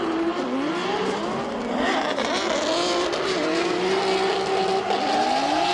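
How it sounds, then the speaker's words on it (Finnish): Two BMW cars drift together at a Kokkola drifting event, engines wailing at high revs with rising and falling pitch and tires squealing, a loud continuous roar with no voices. "kaksi kappaletta bemareita menee ja aika raikkaan näköisesti laulaa kyllä molemmat"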